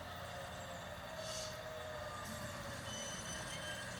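A USA GP7 G scale model locomotive runs on a backyard layout, giving a steady rolling rumble and hum with faint high squeals from the wheels, continuous and fairly close.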